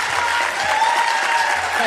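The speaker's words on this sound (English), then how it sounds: "I've got to ask the audience to please refrain from clapping" A crowd applauds at the New Jersey Democratic gubernatorial debate, a dense burst of steady clapping that fills the hall while a voice speaks over it.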